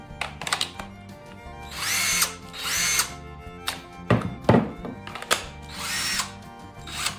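A Bauer impact driver powered by a DeWalt battery runs in several loud bursts of whirring and hammering, close by, with short pauses between triggers and no talk.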